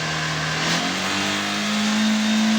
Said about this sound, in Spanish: Lo vamos a seguir acelerando.